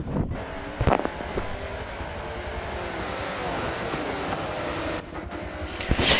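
Racing video game cars roll off at the green flag on the Nurburgring, a steady broadband engine roar and rumble with a couple of brief louder bursts, continuous and fairly close throughout.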